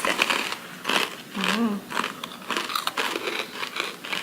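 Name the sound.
biting crunchy dried mushroom snack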